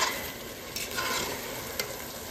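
Green Baguio beans hit a hot stir-fry pan with beef and vegetables, producing a loud, continuous close-up sizzle with brief sharper bursts.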